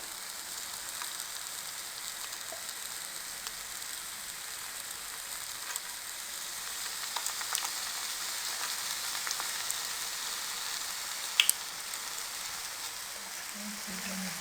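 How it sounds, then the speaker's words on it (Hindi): Bhalle, lentil fritters, frying in cooking oil over a low flame: a steady, even sizzle and crackle with no talking, holding close and constant throughout. "लो फ्लेम पे इनको हम फ्राई करेंगे।"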